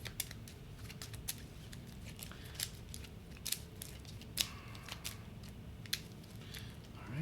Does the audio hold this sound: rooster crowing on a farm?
no